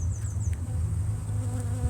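Dense, steady buzzing of a honey bee colony at an overwintered hive in spring, a continuous low drone with occasional louder individual bees passing close by, no talking.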